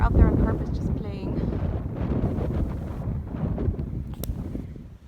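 Strong wind buffets the microphone in an outdoor setting on the Pacific Crest Trail near Julian, a loud, gusty rumble that rises and falls, with a person talking over it.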